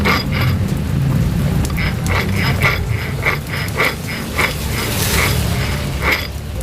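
A worn final gear (rasio) on a Honda Genio scooter whirs and grinds continuously, with a rough low rumble and a rhythmic metallic clicking that repeats about twice a second. It is close and fairly loud, and nobody speaks.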